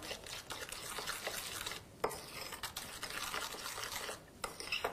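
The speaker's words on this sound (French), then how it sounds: "on mélange bien l'argile verte" Green clay and lemon juice stirred by hand in a small bowl for a face mask, a steady wet scraping and tapping with brief pauses and a sharp clink near the middle.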